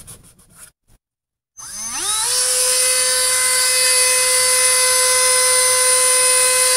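A drill spins up on a 1/8 inch bit during work on a V8 Pathfinder cold air intake, giving a loud, steady high-pitched whine that rises quickly and holds for about five seconds. A short pause of silence comes before it.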